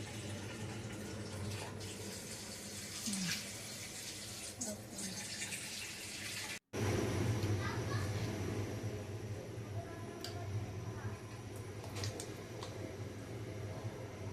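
Water pours steadily into a pot of khichuri with vegetables in a small home kitchen, making a continuous gushing, splashing stream. It pauses for a split second partway through, then runs on.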